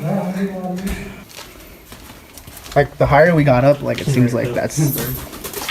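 Pigeon-like cooing and bird calls sound close by, while people talk excitedly over them.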